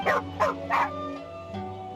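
A dog in the video game Genshin Impact gives three quick, sharp yipping barks close by, followed by a softer whimpering tone.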